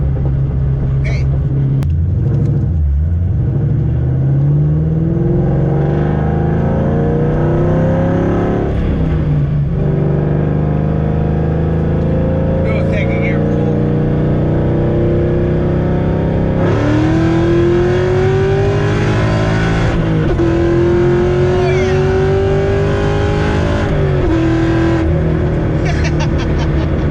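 A Ford Mustang on Mickey Thompson ET Street R tires accelerates hard in first gear, a loud engine roar climbing in pitch and dropping at each shift, heard from inside the car with rumble throughout.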